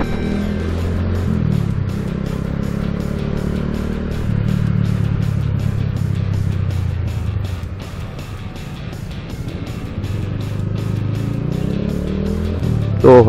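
A motorcycle threads through a heavy Indonesian traffic jam, its engine droning low and close, revving up and easing off in repeated waves under steady wind and road noise.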